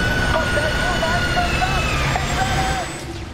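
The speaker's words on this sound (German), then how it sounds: "Ein Helikopter stürzt ab!" Roaring aircraft engine noise with wavering, siren-like tones as a helicopter crashes in the video game F.E.A.R. 3, loud and continuous for a few seconds before easing slightly at the end.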